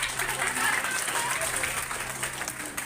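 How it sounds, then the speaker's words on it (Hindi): A group claps in sustained, even applause for a child, the clapping loud and continuous throughout, with voices faintly mixed beneath. "आगे ताली बजाओ इसके लिए"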